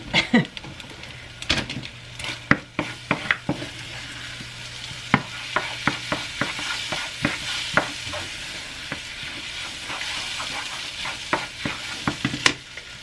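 Eggs scramble in a frying pan under a low sizzle, broken by frequent sharp spatula taps and scrapes against the pan in an irregular rhythm, close by.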